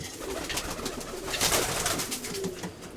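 Pigeons cooing at a breeder's loft, soft repeated murmuring coos layered over a busy backdrop of rustling, wing flutters and other birds, fairly close and steady throughout.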